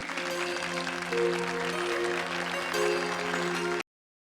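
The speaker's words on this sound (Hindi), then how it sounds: "तालियों से स्वागत कीजिए प्लीज" An audience claps and cheers to welcome a show stopper at a staged show, a loud, dense burst of applause over a sustained musical tone that swells twice before cutting off abruptly.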